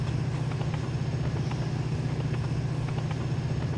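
Steady low electric motor hum of a train in the video game Mashinky, with a constant drone and faint rhythmic clicks, continuous and even throughout.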